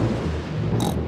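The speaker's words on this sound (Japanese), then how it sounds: "雷の音よ。 この音がしたら嵐が来てたくさん雨が降るの。" Thunder in a Peppa Pig cartoon, one short, loud, low rumble filling the whole moment with a brief brighter crackle near the end, no voices over it.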